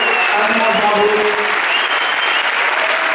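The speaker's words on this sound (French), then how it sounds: "je voulais qu'on applaudisse encore bien fort tout le reste, bien sûr, du casting" Premiere audience gives the film cast of Juste une illusion a loud, full round of applause, thick and unbroken throughout, with some cheering mixed in.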